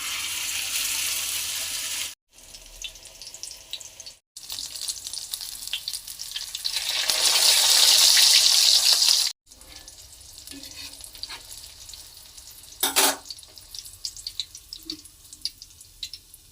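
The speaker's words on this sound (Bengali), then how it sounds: "কাবাবগুলো এক এক করে ভেজে নেব।" Chapli kebabs, a Pakistani minced-meat patty, frying in a pan, giving a steady crackling sizzle that swells louder midway, with short breaks and a few clinks and scrapes, no talking.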